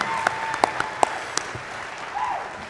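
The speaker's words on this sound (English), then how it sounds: "Let's have one more round of applause for our doctoral candidates tonight." Audience at a commencement ceremony applauds doctoral candidates: a steady, moderately loud wash of hand claps with a few sharper individual claps standing out, fading slightly toward the end.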